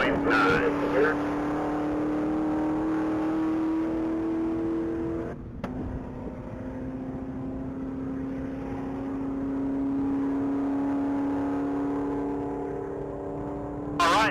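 Orange 2010 Camaro SS racing at the Texas Mile top-speed event, its engine holding a sustained whining drone with a brief gear-change dip midway, heard at a distance under crowd and announcer chatter.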